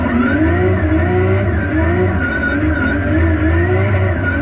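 A modified BMW car engine runs loud and close, with a continuous throaty revving drone and rising and falling pitch, with no voices over it.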